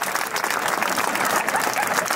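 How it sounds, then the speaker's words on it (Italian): An audience at an open-air cabaret show breaks into loud, sustained applause, a thick continuous roar of many hands clapping. "applauso"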